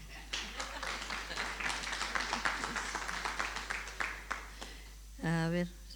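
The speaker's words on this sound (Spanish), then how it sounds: "Deme un aplauso a Ana" Church congregation clapping for Ana, a busy patter of many hands mixed with murmuring voices, ending with a short tonal sound.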